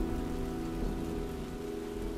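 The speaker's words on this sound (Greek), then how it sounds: "Ευλογημένη η βροχή που κάνει τον κήπο μου να ανθίσει." Steady rain pours down in a dense, even hiss that runs without a break, with a soft low tonal drone underneath and no voices.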